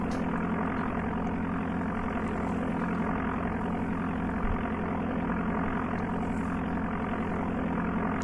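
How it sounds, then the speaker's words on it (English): Steady, unchanging aircraft engine drone from the Amiga flight game Flight Simulator II, a continuous buzzing hum held at an even level throughout with no pauses or talk. "If you listen to the engine sound long enough, you'll hear what sounds like a overdrive,"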